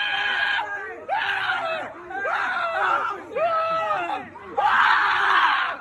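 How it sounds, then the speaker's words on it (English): A crowd of people at Universal Studios, Florida yells at the Cat in the Hat in a series of loud, strained shouts and screams, one after another, close and raw with no music. "People yelling at Cat in the Hat."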